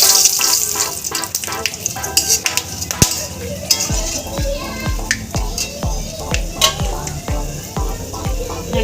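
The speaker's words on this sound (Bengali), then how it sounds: "এবার তেলে ফোড়ন দেওয়া হবে জিরে, তেজপাতা, লবঙ্গ," Cumin, bay leaves, cloves and cardamom sizzle in hot oil for a Bengali chana dal, with steady crackling spitting and repeated sharp clinks of a spoon against the pan close by.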